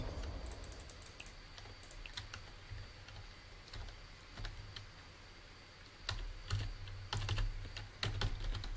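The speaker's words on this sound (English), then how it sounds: "Yo, how fast do I have to click it?" Rapid mouse or key clicks on a computer during a Basketball Legends game, a dense run of sharp taps that speeds up and grows louder toward the end, close up over a low steady hum.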